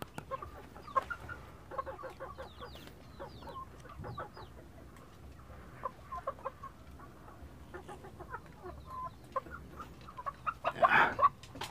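Several chickens cluck and squabble inside a coop where birds from different pens have been put together, with scattered close clucks throughout and a louder burst of agitated calls near the end.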